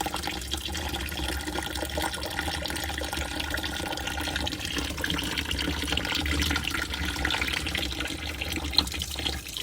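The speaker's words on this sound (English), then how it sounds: "Then we're gonna turn on the hot water now" Hot water running from a tap into a sink while cleaning an RV grey tank, a steady splashing hiss that holds even and continuous throughout.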